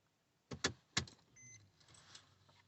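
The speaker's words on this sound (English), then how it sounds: "Turn on the ignition." Keys jangle and click three times in the ignition of a Mercedes, followed by a faint electronic chime and a low hum as the car's electrics come on, all quiet and close.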